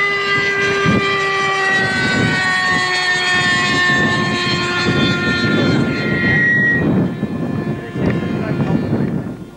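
A single can-type jet engine on a model aircraft at the 1989 Wroughton jet rally whines with a loud, sustained tonal roar, with crowd noise and voices mixed in around it.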